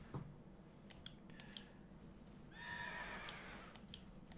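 A horse neighs and whinnies in the Pokémon Sword video game. A drawn-out, bright whinny rises clearly over a low background hum about midway through, with a few faint clicks before it.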